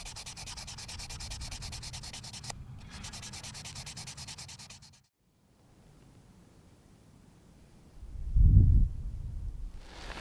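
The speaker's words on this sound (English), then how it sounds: "I took my knife and I used sandpaper as well to whittle this down" Sandpaper rubbing along a wooden hunting arrow shaft in close, steady raspy strokes, stopping briefly midway, then resuming softly before a louder low rub near the end.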